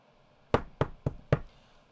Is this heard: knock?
yes